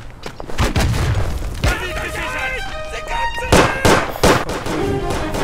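Rifle fire in the WWI shooter Verdun, a few sharp cracks and booms scattered across a busy battlefield soundscape, with a voice talking over parts of it.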